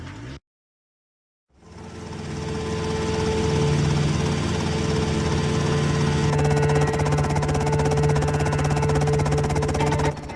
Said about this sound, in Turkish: Pekala helikopterimiz geldi.